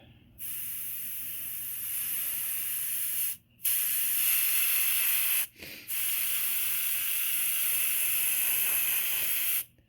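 Steady airbrush hiss spraying paint onto a Gunpla model kit in long bursts with two brief pauses, close and fairly quiet, no talking.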